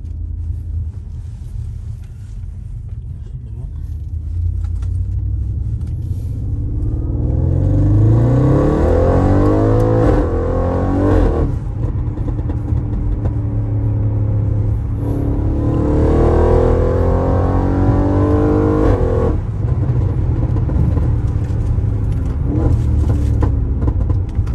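Tuned Audi RS7 with over 700 hp on a road test, heard from inside as the engine rumbles and climbs through loud, rising acceleration pulls with gear changes, then settles into a steady cruising drone.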